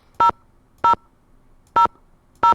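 Four short touch-tone beeps from a telephone keypad being dialed in the video game Nancy Drew: The Haunted Carousel, evenly spaced and crisp against a quiet background.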